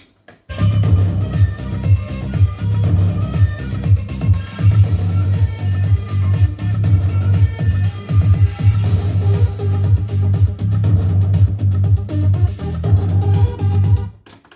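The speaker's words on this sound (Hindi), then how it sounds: "पहले कैसेट प्लेयर की परफॉर्मेंस चेक करते हैं।" A Philips FWV230 cassette deck plays a tape, giving a continuous stream of recorded music with a steady bass beat that starts abruptly after a brief silence and runs loud and unbroken until it cuts off at the end.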